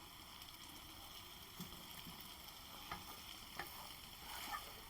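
Peas and cauliflower fry quietly in a pan, a faint, soft sizzle broken by a few light scrapes and clacks as they are stirred, with no talking.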